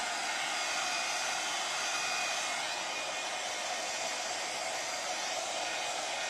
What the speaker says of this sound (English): It will be a heat gun.